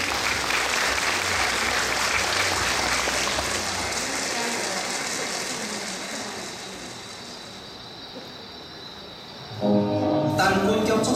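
A dense, sustained round of audience applause fills a hall at a community honors ceremony as a dance troupe is welcomed, easing slightly before music begins at the end.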